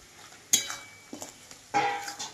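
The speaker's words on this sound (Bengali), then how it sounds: "এইবারে আমি মাছ ভাজাগুলো দিয়ে দেবো, এইভাবে চালাবো হালকা করে।" Fried fish pieces stirred gently into a tomato curry in a pan: a few close scraping and clinking spoon strokes over a faint sizzle, quiet and brief.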